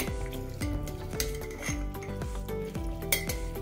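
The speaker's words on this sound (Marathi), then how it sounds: "आता आपण हे एका पळीने हलवून घेऊया।" Homemade green chili pickle in spiced oil is stirred with a metal ladle, giving repeated scraping and clinking strokes against the vessel at a steady pace, with a steady tonal hum in the background.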